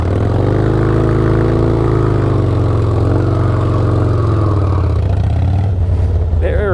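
Harley motorcycle engine held at high revs during drift practice, a loud, sustained droning roar close by that shifts slightly in pitch before easing off near the end.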